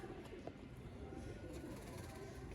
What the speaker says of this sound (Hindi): ਤੇ ਮਾਸ਼ਾਅੱਲਾ ਬੜੀ ਲਾਜਵਾਬ ਕਬੂਤਰੀ ਹੈ।